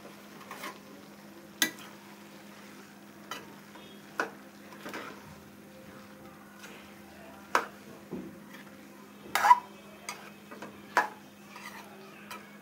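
Vegetables with shrimp paste are stirred and turned in a pan, with scattered, sparse clicks and scrapes of a utensil over a quiet, low, steady hum.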